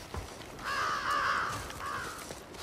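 Crows caw in the video game The Last of Us Part II, two drawn-out harsh caws at middle distance over a quiet ambient bed, with no talk.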